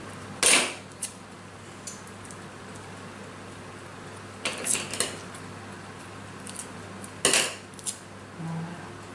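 Small pieces being cut, probably with scissors, for a children's unicorn-themed treasure hunt: three sharp, crisp snips spread apart, each followed by a smaller click, over a quiet background with no talking.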